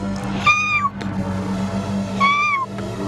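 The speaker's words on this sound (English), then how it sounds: "There, right in front of her, looking at her with green eyes, Ginger, the farm cat." A farm cat gives two clear, drawn-out meows about two seconds apart, close and distinct over a low steady hum.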